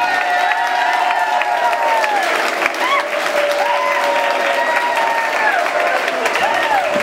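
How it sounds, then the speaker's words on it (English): Loud, sustained applause and cheering from a wedding crowd celebrating a couple's first dance, with voices calling out over steady clapping throughout. "Let's have a big round of applause."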